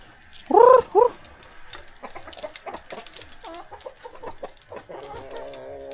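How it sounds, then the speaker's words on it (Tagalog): Loud clucks from a chicken burst out at the start, followed by scattered softer clucking and fowl chatter in the background. "Ayan ang mga manok natin oh."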